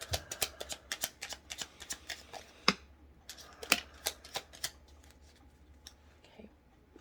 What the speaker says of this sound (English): Final shuffle, please.